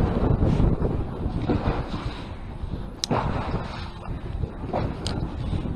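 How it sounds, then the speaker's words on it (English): Strong gusting wind on a cold day while fishing buffets the microphone in a constant low roar, with a few sharp knocks and creaks breaking through. "This wind has got me bouncing all over the place"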